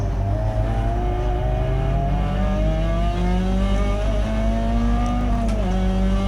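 A Peugeot 206 GTi 180 racing at Mallory Park in a CSCC Tin Tops race gives a loud, continuous in-car engine drone. Its pitch climbs steadily through the gear, then dips briefly near the end as the driver shifts.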